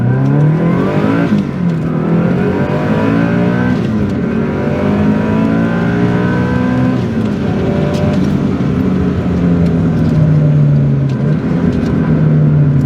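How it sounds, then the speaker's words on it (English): A Subaru WRX STi Type RA homologation rally car revs hard and climbs through quick gear changes, a loud continuous roar rising and falling in pitch from inside the cabin. "see how this homologation rally car goes"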